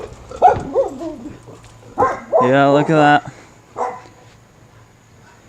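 A dog barks and yips in a few short bursts, including a couple of strong tonal barks close by, while a person speaks briefly between them.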